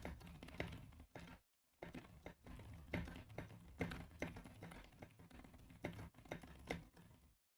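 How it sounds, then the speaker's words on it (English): Quiet, rapid keystrokes clatter on a computer keyboard during a typing speed test, coming in uneven bursts with a couple of short pauses between them. "let's do a typing speed test"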